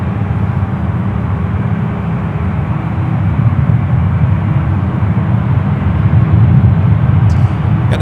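Steady, loud low jet-engine rumble from a United Airlines Boeing 777-200ER at San Francisco International Airport, a continuous broadband roar holding for several seconds.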